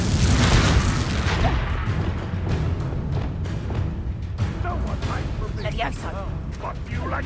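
Confringo fire spell explosions in the video game Hogwarts Legacy go off as a dense series of loud booming blasts and bursts, with fighting voices talking and shouting over them throughout.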